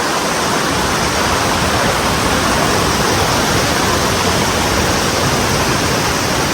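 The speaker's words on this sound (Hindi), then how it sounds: "और अभी हम ये इलाका क्रॉस कर रहे हैं, ये पानी क्रॉस कर रहे हैं ना" Rushing water from a glacier-fed mountain stream in Kashmir being crossed, a dense, steady broadband roar close by that holds constant throughout with no voices.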